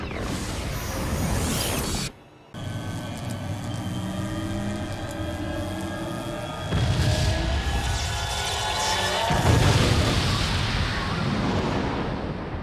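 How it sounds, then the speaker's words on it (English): The comet is blown up by the Eclipse Cannon in the Shadow the Hedgehog video game: a loud, sustained roaring explosion with a brief dropout, then heavier rumbling surges, with no talk. "Shadow flies off and takes the Comet to get blown up by the Eclipse Cannon"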